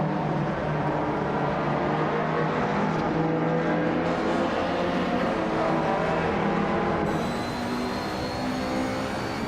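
Video game race with a 1991 Nissan Primera P10 in the lead: a steady, droning engine roar holds at an even loudness throughout, with a faint high whine rising toward the end and no talk.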